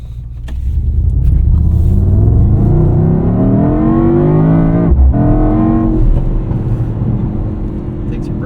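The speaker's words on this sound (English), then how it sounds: "It doesn't sound as dramatic as the GT63S that we just had." Engine of a 2024 Mercedes-AMG GT 63 S E Performance 4-Door with a 9-speed multi-clutch automatic rises loudly in pitch under hard acceleration, heard from inside the car, with a brief gear-shift break midway before it climbs again.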